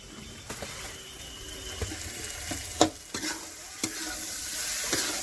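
Sliced onions fry with salt in a pan, a soft steady sizzle broken by scattered clicks and scrapes of stirring, close and fairly quiet with no talking.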